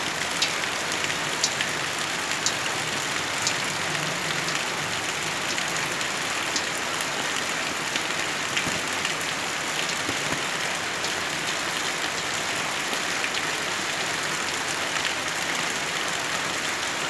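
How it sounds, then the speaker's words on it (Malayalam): Heavy rain pours steadily onto a lined fish-farming pond stocked with pearlspot, a dense even hiss of drops on water lasting throughout, with no talk. "നല്ല മഴയുള്ള സമയമാണ്."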